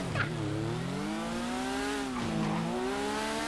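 A mini CB1000 motorcycle revving hard through a wheelie, its engine whine climbing and falling in pitch with a steady, loud buzzing drone that stays close throughout.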